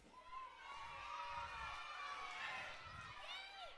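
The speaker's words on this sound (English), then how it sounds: "you didn't even cheer when you saw I was teaching, but you cheer for Gus" Children cheer and shout together at a kids' church lesson as the puppet Gus appears, a bright excited crowd of young voices rising and swelling in waves and staying loud throughout.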